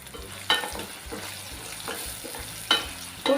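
Onion and tomato with salt being stirred in a pan: a soft frying hiss under loud, irregular spoon knocks at a few moments and gentle scraping in between.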